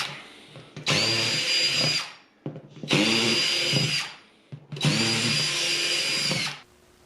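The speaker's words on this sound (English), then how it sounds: "And then I drilled holes in the top" A power drill bores holes in the lid of a plastic storage tote being made into a worm farm: three loud, steady whining bursts of about a second or more each, separated by short pauses, with no talking.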